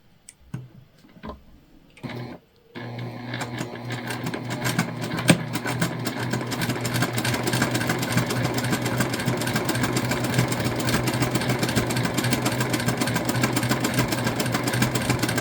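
A sewing machine stitches a quilted pouch, a few separate clicks and taps first, then a steady, close, rapid mechanical whir and ticking that runs on without pause.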